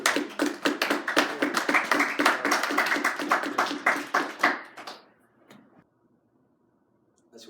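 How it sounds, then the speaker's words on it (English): A small group claps for about five seconds, a fairly loud patter of hands that quickly dies away into near silence. "Give yourself a round of applause."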